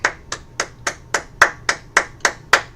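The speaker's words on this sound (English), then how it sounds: "All right, clap it up." Hands clap in a steady rhythm, ten sharp, evenly spaced claps at a brisk pace, close and clear, with no talk. The setting is an ISUPK brotherhood class held on a Tuesday night in Kansas City.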